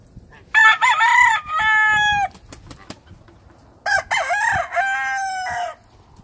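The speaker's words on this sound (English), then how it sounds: "the rooster's 3 years old" A three-year-old brood cock rooster crowing twice, each call a loud, close, drawn-out cock-a-doodle-doo separated by a pause with faint clucks and scratching sounds between.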